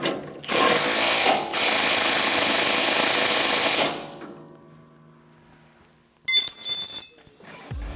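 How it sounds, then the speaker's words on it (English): A fastener on a MUSKOX snowblower's fan motor being tightened with a 1.5 inch socket and wrench, producing a dense mechanical whir for several seconds, a quieter lull, then a short burst of metallic clicking. "Then I proceed to tighten the fastener."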